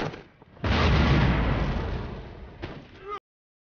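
Cannon artillery volley in the Empire Total War video game, a loud rolling barrage of booms that fades slowly, with a sharper final report just before the sound cuts off abruptly.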